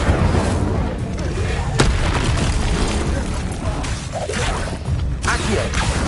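An Incendio fire spell going off in a video game, a dense, loud roaring burst of booms and crackles with sharp impacts and rumbling fire filling the whole stretch.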